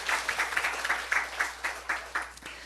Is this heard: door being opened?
no